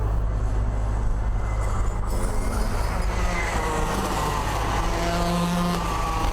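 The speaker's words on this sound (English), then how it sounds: "They would go one lap down when race leader Ivan Foster and Justus Boylke came past, starting their second lap" Rotax racing karts at a kart day in Swakop, Namibia roar past on the track with a steady, loud engine drone that shifts in pitch as they go by, without a break.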